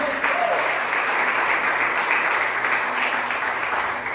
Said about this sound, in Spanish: ¿Alguien tiene un aplauso fuerte a Jesús hoy?